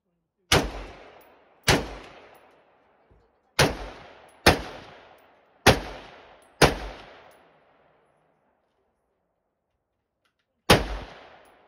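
Seven loud, sharp rifle shots from a PSA JAKL, fired singly at uneven intervals with a long pause before the last, each crack trailing off in a short echo, with no talking.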